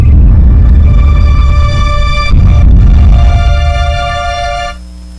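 Phone ringtone sounding loudly for an incoming call from a lawyer, a repeating electronic melody of sustained tones over a low rumble, cutting off near the end.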